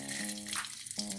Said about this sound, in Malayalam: അപ്പോൾ അതിലേക്ക് നമ്മൾ കടുകിടുന്നു